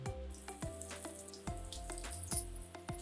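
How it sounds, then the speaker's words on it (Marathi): Boiled sweet potato slices shallow fry in oil in a pan with a soft, steady sizzle, broken by recurring clinks and taps of utensils, all fairly quiet. "आता हे रताळ्याचे काप आपण फ्राय करून घेऊया."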